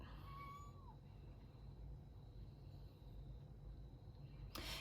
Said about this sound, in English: if you hear squeaking in the background, that's my foster cat